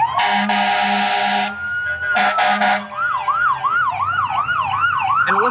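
Ambulance and fire truck sirens pass in a holiday parade: loud air-horn blasts, then a short burst of horn hits, giving way to a wailing electronic siren that rises and falls in quick cycles, close by.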